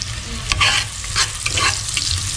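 Garlic and onion fry in a pan for papaitan, a steady close sizzle with a few brighter crackling bursts and stirring scrapes throughout.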